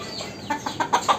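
Brahma chickens kept on a rooftop give a quick run of clucks that grow louder and closer together, heard close by with no talking.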